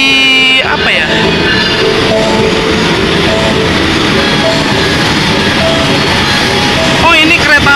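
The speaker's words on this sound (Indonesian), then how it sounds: "ini kereta api Argo Merbabu dari stasiun Semarang Tawang tujuan akhir stasiun Gambir" Argo Merbabu passenger train from Semarang Tawang bound for Gambir pulls into a station in Java, a loud, steady rumble of wheels and carriages with a horn-like tone at the start and squealing near the end, voices faintly under it.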